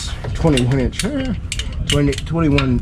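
Socket wrench with a 21 mm socket ratcheting in short, close bursts while a pitman arm nut is tightened on a GMC Sierra 2500 HD, each stroke giving a whirring, slightly squeaky clatter.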